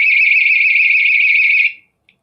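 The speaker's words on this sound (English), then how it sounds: "So this is a personal alarm." A personal safety alarm emits one loud, piercing, steady high-pitched tone for about a second and a half. It then cuts off sharply, leaving silence with a faint click near the end.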